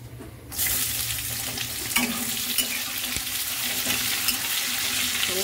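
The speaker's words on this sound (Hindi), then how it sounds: "तो वह हमारे प्याज भुन चुके हैं" Onions frying in hot oil with dry spices in a home kitchen pan, a steady loud sizzle throughout with occasional stirring scrapes, no voices.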